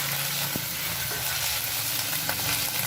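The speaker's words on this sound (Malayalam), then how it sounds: "ഒന്ന് ഇളക്കി കൊടുക്കുക." Chili chicken masala frying on a high flame hisses in a steady, loud sizzle, with a couple of brief stirring scrapes in the pan and no voices.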